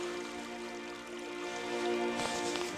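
Steady water murmurs and rushes in the background, alongside a constant mechanical hum, with a brief louder splash of water near the end.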